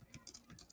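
Computer keyboard typing while setting up a WhatsApp automation, with a handful of soft, quick key taps in an uneven rhythm, faint and close.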